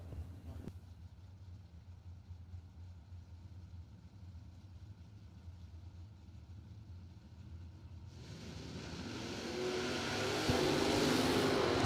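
Drag race cars at a 20s warm-up event, one a Nova, idle low and distant before one engine swells into a loud rising roar of launch and acceleration near the end.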